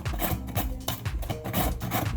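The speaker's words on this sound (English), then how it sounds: "We are going to use, of course, the grater with the carrot in the same way as we did it with the green pepper." A raw carrot is grated on a hand grater for Salvadoran curtido, giving a steady series of rough, rasping strokes close up with a regular back-and-forth rhythm and no talk.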